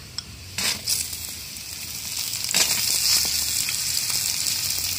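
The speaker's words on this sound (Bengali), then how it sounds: "এবার দিয়ে দেবো কেটে রাখা কাঁঠালের দানা।" Jackfruit seeds tipped into a pan of potatoes frying in oil give a steady, close sizzle, with a few sharper scrapes and clinks of a spatula stirring against the pan.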